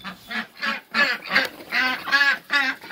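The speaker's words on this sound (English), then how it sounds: "Let's see the ducks. There you go. They're quacking and quacking and quacking." Ducks quack repeatedly in a busy, overlapping chorus of nasal calls, close by and fairly loud, with brief gaps between bursts.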